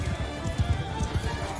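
Horse hooves clip-clop at a quick, uneven gallop in Mount and Blade Bannerlord battle, mid-level under faint background noise.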